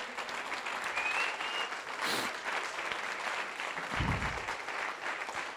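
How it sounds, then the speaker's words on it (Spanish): A congregation at a church service claps steadily and warmly throughout, a dense, even wash of applause that neither builds nor fades. "Da un aplauso al Señor."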